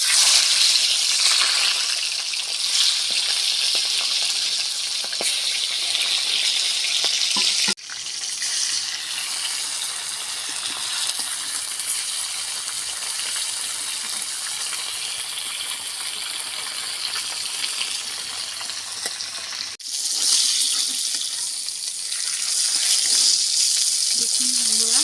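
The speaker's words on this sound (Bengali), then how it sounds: "এবার আমি মাছগুলো ভেজে নেব।" Rui fish frying in hot oil gives a steady, loud hiss and sizzle that runs almost unbroken, with two brief dips where the sound cuts out and then returns.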